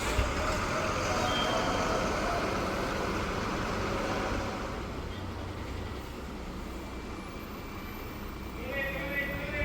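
Bus engines idle and rumble at the Vyttila Hub bus station, with steady vehicle noise, a distant horn and faint beeps, and people talking in the background.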